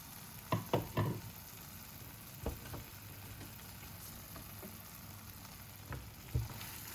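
Eggs added to tomatoes in a frying pan give a low, steady sizzle, broken by a few sharp clinks and scrapes of a utensil against the pan, close and fairly quiet, with no voices.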